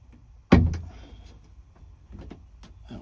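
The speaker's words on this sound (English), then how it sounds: "That was our door latch opening, I do believe." A car door latch releases with a sharp loud clack, followed by a few fainter clicks and rattles of the door mechanism.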